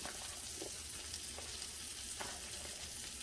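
Vegetables, including onion and jalapeños, sizzle and fry steadily in a pan for Mexican migas, a continuous close crackle with occasional stirring scrapes and no voices.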